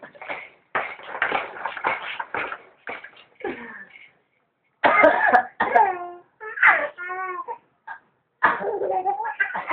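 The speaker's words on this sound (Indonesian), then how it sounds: "Baru rasa batuk bohong-bohongan." A person fakes a run of short dry coughs close by, followed by gaps and bursts of giggly, laughing voices and a little talk.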